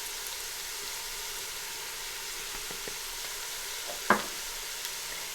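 Turmeric and chilli powder frying in a hot pan, a steady soft sizzle throughout with a few faint stirring clicks and one brief sharper tap, close and without voices.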